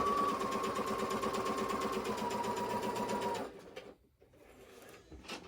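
A sewing machine runs steadily while stitching a quilt block, giving a rapid, even mechanical whir with a fine rhythmic clatter. It stops after about three and a half seconds, leaving a quiet room with faint shuffling.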